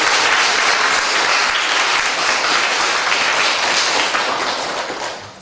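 Loud, dense applause from a congregation opening a youth and university students' dedication worship service at a church in Jinju, sustained clapping that fills the room and tapers off at the end.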